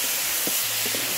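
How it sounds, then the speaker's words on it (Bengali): Food frying in a pan on a home stove, giving a steady close sizzling hiss with a few soft stirring knocks, no voices. "ভাজা ভাজা হচ্ছে"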